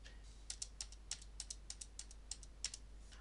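Keys on a computer keyboard are tapped in a quick, irregular run of about a dozen light clicks, including presses of the Backspace key, heard close and clear with no one talking.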